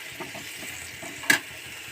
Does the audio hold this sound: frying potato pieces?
yes